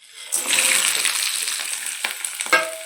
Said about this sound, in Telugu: వేసి బాగా ఫ్రై చేసేయండి